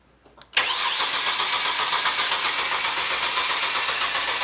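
A car engine is cranked during diagnostic work with a Snap-on Vantage Pro scope, jumping after brief quiet into a loud, steady, broadband roar that continues unbroken to the end.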